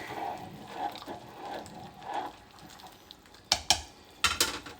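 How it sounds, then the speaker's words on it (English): Country-style beans with tomatoes boil in a pot and get a quick stir: a soft, bubbling hiss, then a few sharp clinks of a spoon against the pot near the end, close and quiet. "Well, it has come to a boil. Give her a little stir."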